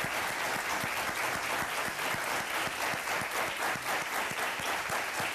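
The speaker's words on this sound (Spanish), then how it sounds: "voy a darles un aplauso" Studio audience applause on a televised courtroom show, a steady dense wash of many hands clapping at even loudness throughout, with no talk over it.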